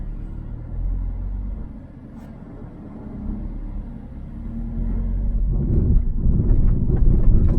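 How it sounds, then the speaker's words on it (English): A Hyundai i20 Turbo IMT petrol car drives over a bumpy road, a steady low rumble of tyres and cabin noise growing louder toward the end, with loose stones knocking and rattling against the underbody. "I mean that's a bumpy road, that's the reason stones have been fumbling around."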